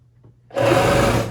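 A walking foot sewing machine kicks in after a quiet moment and runs in one loud, close, continuous whirring burst while stitching around a fabric sphere for a cat pod.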